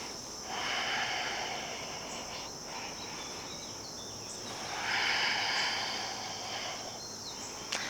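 Slow, deep yoga breaths drawn in and let out during a gentle hatha practice, soft airy rushes rising and falling close by, with a faint steady high insect-like hiss in the background.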